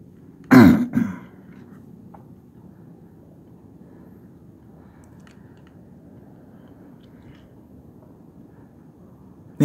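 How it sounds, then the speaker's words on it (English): A person clears their throat once with a close, loud, rough burst that lasts about half a second. Low, faint background noise continues afterward with no speech. "I just cleared my throat again"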